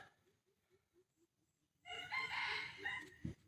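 A young rooster being raised for the coming season: soft, evenly spaced low clucks, then a loud, strained crow nearby that lasts well over a second, followed by a thump.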